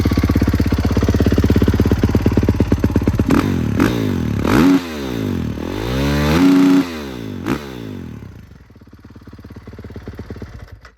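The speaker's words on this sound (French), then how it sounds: "Écoutez, elle démarre nickel." A 450 KXF dirt bike engine running loudly nearby, revving up and down several times with mechanical clatter, then dropping to a rough idle.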